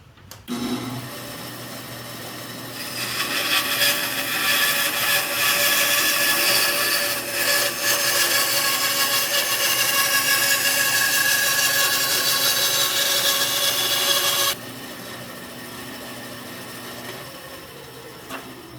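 A budget bandsaw upgraded with a fence set at half an inch runs near and steady, then rises into a loud, sustained whining cut through a scrap of wood for about eleven seconds before dropping back to the motor's hum.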